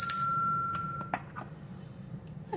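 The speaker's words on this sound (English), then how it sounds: "Let's ring the bell for a smile, shall we?" A small bell is struck once with a bright, ringing ding that decays slowly, followed by a few fainter clinks and taps nearby in an otherwise quiet space.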